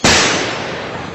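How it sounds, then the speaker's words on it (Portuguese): A single loud gunshot cracks sharply and then rolls off in a long, fading echo. "Esses tiros, os portugueses estão a chegar."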